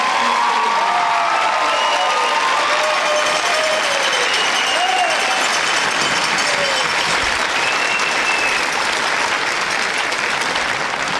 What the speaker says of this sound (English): can we give them a round of applause loud enough so Marengo can hear us